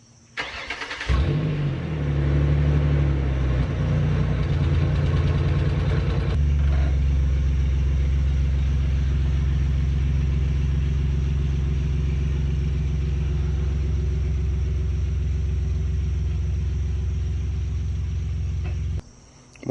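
A car starts up and settles into a loud, close, steady engine rumble, with a brief rev near the start, then idles or drives on evenly until it cuts off at the end.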